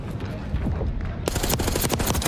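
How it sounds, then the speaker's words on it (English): Rapid gunfire from a Call of Duty Black Ops 6 esports match, dense automatic bursts and loud cracks packed together, rising sharply midway under a busy crowd and commentary bed. "Some incredible gunfire wins."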